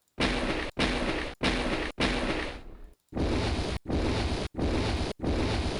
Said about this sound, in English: Then footsteps in the water.